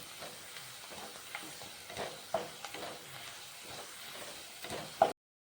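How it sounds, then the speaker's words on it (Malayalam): Ginger sautéing in a pan for kanthari chili pickle, a soft continuous sizzle broken by scraping stirs and a few sharper knocks of the spoon, close and fairly quiet, with no voices. "ഇഞ്ചിയും കൂടെ ചേർത്ത് നമുക്ക് വഴറ്റാം."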